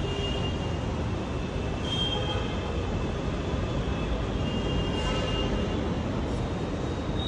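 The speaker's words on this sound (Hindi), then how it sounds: "तो देखो गाइस, आ गई मेट्रो।" A metro train pulls into a station, its loud, steady rumble and rush of wheels filling the whole stretch close by, with a faint squeal of rails now and then.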